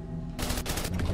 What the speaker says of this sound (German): Dann die Kanonen schießen